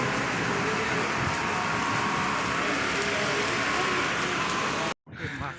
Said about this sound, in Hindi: शायद बारिश स्टार्ट हो गई